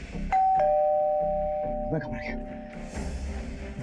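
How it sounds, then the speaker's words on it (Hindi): A doorbell chimes twice in quick succession, with a long ringing tone that lingers and fades, followed by muffled movement and a brief voice-like sound in a tense indoor scene from a Hindi crime drama. "दरवाजे की घंटी बजी।"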